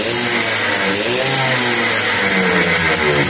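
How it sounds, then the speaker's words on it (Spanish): A loud Suzuki AX100 motorcycle engine runs steadily up close, with a rough, throbbing drone that rises slightly in pitch at moments. "la motocicleta está prendiendo a su perfección"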